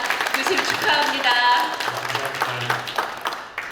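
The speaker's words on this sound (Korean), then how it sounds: "마이크 앞에 서실 때 큰 박수 다시 한번 보내주시기를 바랍니다" Audience applause at an award ceremony fills the room with dense, steady clapping that swells and then gradually thins out, with a low hum underneath.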